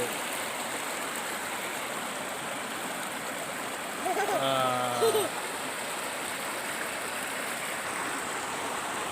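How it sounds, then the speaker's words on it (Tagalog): A river stream flowing steadily at a picnic spot, constant rushing water filling the whole span, with a brief burst of voices partway through. "nandito kami sa ilog"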